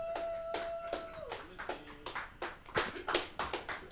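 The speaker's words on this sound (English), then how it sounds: "Give Tim another round of applause." Sparse audience clapping for a stand-up comedian at a comedy night, a scattering of sharp, uneven claps near and fairly quiet, with a sustained tone early on and no speech.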